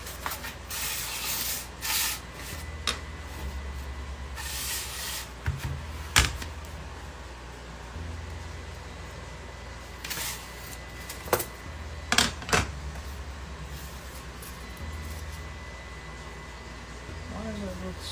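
Hand-cutting a sheet of XPS foam board for a corner build produces broad hissing, rubbing scrapes in several bursts, close by, with a person talking between the cuts.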